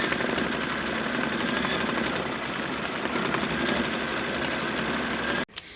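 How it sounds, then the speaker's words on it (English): An embroidery machine stitches the tack-down of a white quilt flower, a steady rapid mechanical whir and chatter running continuously before stopping abruptly near the end. "now it's going to stitch the tack down of the white"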